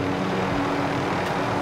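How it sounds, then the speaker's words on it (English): Steady drone of a helicopter flying in the video game Warzone, a continuous engine and rotor hum with no breaks, fairly loud and alone. "this tip is about landing a helicopter"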